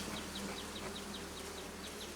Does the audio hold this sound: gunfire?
no